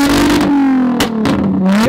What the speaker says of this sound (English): Some kind of VQ's revving.